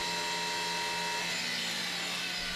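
Steady high whine of the blade grinding system on a KRONE ZX dual-purpose forage wagon, a continuous even grinding tone held throughout at moderate level with no talk.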